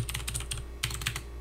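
Keys clatter on an Apple II computer keyboard while a program in Applesoft BASIC is typed, a quick run of close, crisp keystrokes with a brief pause before a few more presses.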